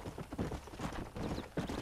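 Horse hooves clip-clop at a steady trot in the Red Dead Redemption video game, a quiet rhythmic patter of repeated thuds with no talk over it.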